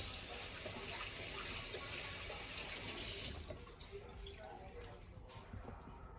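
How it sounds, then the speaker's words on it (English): Hands rinsed under a running kitchen tap while making crab rangoon filling, a steady splashing stream that drops to softer dripping and trickling once the flow changes halfway through; quiet and close. "I'm gonna rinse my hands."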